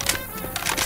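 A brief mechanical clatter of a weapon being reloaded in Left 4 Dead 2, a quick rattling burst of clicks over busy game noise.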